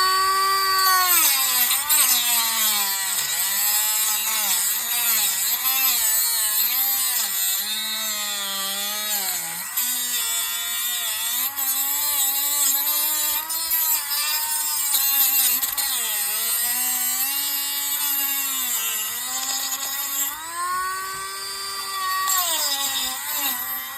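A power saw grinding through the casing of a Pittsburgh tape measure, a loud continuous whine whose pitch sags and rises as the blade bites and frees, running almost unbroken throughout.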